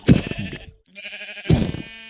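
Sheep bleating in Minecraft (ATM6Sky modpack): two clear, close bleats separated by a short pause, with a steady game tone running underneath.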